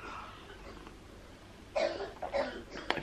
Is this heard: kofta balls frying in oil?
no